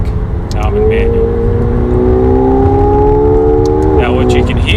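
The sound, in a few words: McLaren 720S engine noise in cabin via intake sound generator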